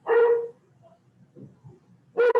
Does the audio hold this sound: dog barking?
yes